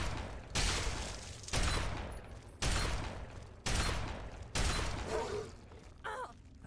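Shotgun blasts in the video game Fallout 3, about six loud, sharp reports spaced roughly a second apart, each with a decaying tail, a faint groan near the end.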